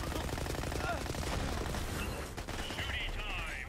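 Rapid gunfire in Borderlands 3 sounds as a fast, continuous stream of shots, fairly quiet and mixed with game effects, while someone talks over it.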